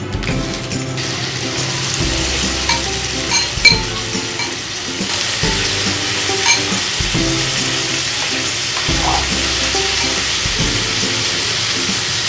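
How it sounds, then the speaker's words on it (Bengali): Potatoes drop into hot ghee and sizzle steadily, with repeated stirring scrapes and clanks in a pan throughout, close and fairly loud, no one speaking. "এবার আমি আলুগুলো ছেড়ে দিচ্ছি ঘিয়ের মধ্যে"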